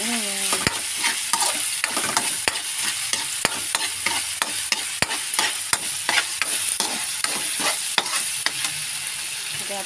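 Oyster sauce is stirred into string beans and ground meat in a hot pan, sharp regular scrapes of a utensil against metal over a steady sizzle.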